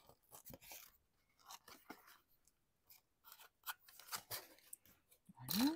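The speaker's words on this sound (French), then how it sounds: "Voilà, je vais couper un morceau." Scissors cut a piece of ribbon in several quick, close snips and rustles, quiet and irregular, with a louder crisp cut at the very end.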